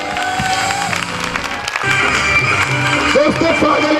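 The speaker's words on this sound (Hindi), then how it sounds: "हिंदुस्तान की नंबर 1 संस्था टीटीएम के लिए जबरदस्त तालियां होनी चाहिए" Seminar audience in Gajraula applauding with scattered clapping, while a loud amplified voice and background music carry on over and through the applause.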